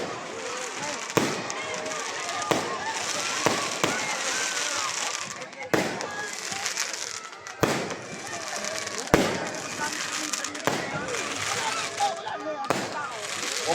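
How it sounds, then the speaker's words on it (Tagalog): Christmas fireworks in Santo Tomas, Batangas, bang and crackle repeatedly at a distance, sharp pops scattered irregularly over a noisy outdoor background, with occasional voices. "Pa-fireworks, sakto."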